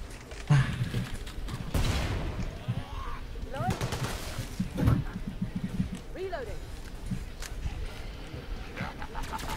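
Gunfire in the video game Killing Floor 2 comes as dense, repeated shots and bursts mixed with game effects, heard under a player talking over the action.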